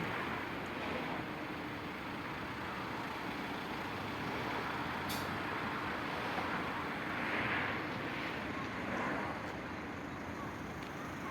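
Steady road traffic noise from a rush-hour jam with trucks and buses, a continuous broadband rumble with a brief air-brake hiss partway through, heard at a distance under wind.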